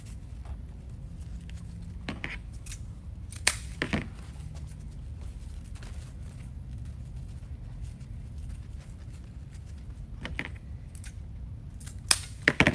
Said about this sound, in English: I used to measure and cut every single ribbon tail.